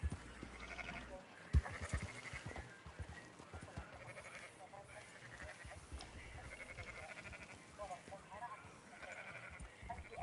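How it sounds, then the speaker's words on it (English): Sheep bleat repeatedly in the Red Dead Redemption video game, scattered calls over an outdoor ambience while someone talks throughout. "Marston, why don't you leave the sheep to me?"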